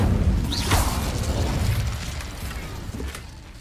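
A fire spell goes off in Hogwarts Legacy, a whooshing magical burst with a swelling boom that fades away into a low rumble, no voices.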